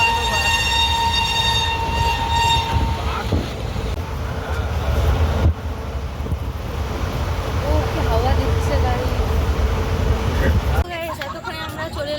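A train rumbles along with a loud, sustained horn blast at the start, its rolling clatter continuing while voices murmur nearby.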